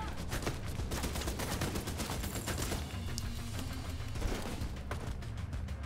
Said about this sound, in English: Where those shots come from?